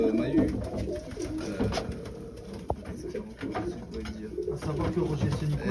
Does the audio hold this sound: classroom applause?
no